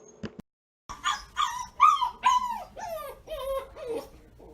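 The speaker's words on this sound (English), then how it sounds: "I'll insert him howling in his crate as a puppy." A young dog howls and whimpers in a crate in a series of rising, wavering cries, close and loud, each wail sliding down in pitch.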